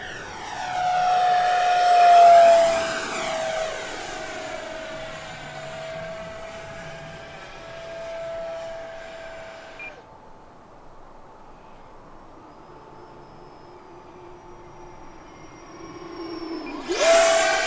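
An Arrows RC 50mm T-33 hand-launch electric jet makes flying passes, its ducted-fan whine rising and falling with a strong Doppler sweep. It approaches loudly, fades into the distance, then roars close again at the end.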